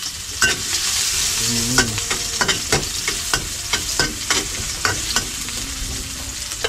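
Onion tossed into a hot pan in a home kitchen, sizzling steadily with repeated scraping stirs, while a voice briefly speaks.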